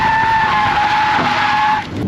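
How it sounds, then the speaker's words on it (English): A 1978 Ford F-350 truck doing a burnout, its tires screeching in a loud sustained squeal that cuts off after about two seconds. "it's barely even laying down strips of rubber"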